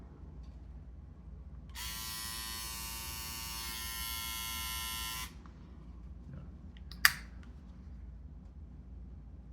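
A Remington XF8505 SmartEdge foil shaver's trimmer runs with a bright electric buzz for about three and a half seconds, close up, then switches off, followed by a sharp click.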